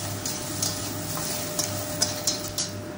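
Drumstick flowers and parboiled potato pieces being stirred in a pan, with a steady soft sizzle and scattered light scraping ticks of the spatula, close and continuous.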